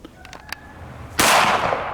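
A single handgun shot strikes a foldable ballistic shield, a loud, close blast with a long ringing decay, preceded by faint clicks.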